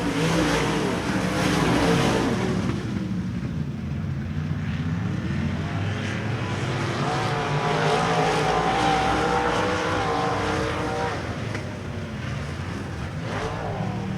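Race cars on the final lap of a KR Cup race at RPM Speedway, their engines roaring loudly past and then fading into a steady droning hum, with no voices.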